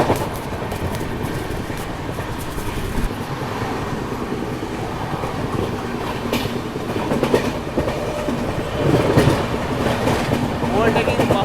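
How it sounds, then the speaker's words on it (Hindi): An Indian Railways Duronto Express, New Delhi–Howrah service, runs past while overtaking the Mahabodhi Express, heard from on board as a loud continuous rumble with rhythmic wheel clatter over the rails and brief vocal sounds mixed in. "Overtaking Mahabodhi express."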